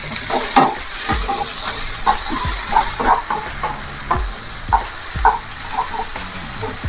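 A spatula scrapes and knocks in a pan while drumstick greens, potato and pointed gourd sizzle in hot oil, with steady frying hiss under repeated close stirring strokes.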